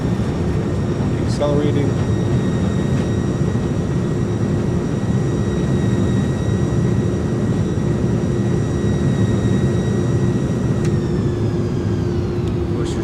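Airliner jet engines roaring in reverse thrust during landing in Microsoft Flight Simulator, a loud steady broadband rush with a high whine, under intermittent talk.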